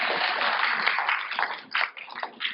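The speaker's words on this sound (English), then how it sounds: "can I get a round of applause for that?" An audience at a Namibia Trade Forum discussion on an AfCFTA awareness campaign gives a round of applause, dense continuous clapping that swells and dips in bursts over a few seconds, with no talk over it.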